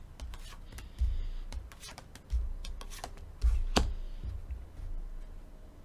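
Tarot cards being shuffled and handled by hand, giving soft rubbing and riffling with scattered light ticks and a few louder slaps, close by with no talk.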